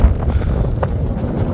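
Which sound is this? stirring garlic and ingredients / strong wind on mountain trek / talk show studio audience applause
strong wind on mountain trek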